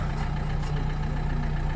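The 1.5-litre K9K diesel in a 2013 Renault Grand Scenic idles with an even, low clattering rumble, close and steady throughout, with no talking.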